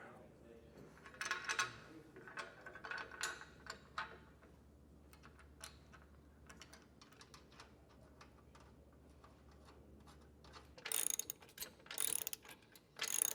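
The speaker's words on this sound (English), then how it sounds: "So we're just going to get these ratcheted down" A ratchet tightening the bolts on a Thule TracRac SR sliding truck bed ladder rack, with quick bursts of clicking ratchet strokes near the mic, scattered metallic ticks and louder clanks toward the end.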